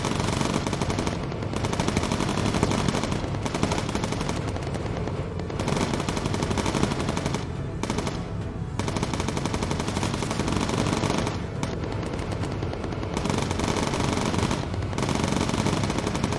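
Continuous, dense .50 caliber machine-gun fire from bomber turrets in the Bomber Crew air-combat game, loud and sustained across the whole stretch with only brief dips, no talking.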